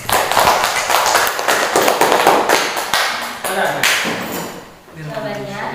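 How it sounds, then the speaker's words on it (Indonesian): A classroom bursts into applause for a student named Ririn, a dense run of sharp close claps that fades out before a voice takes over at the end. "Tepuk tangan untuk Ririn dong."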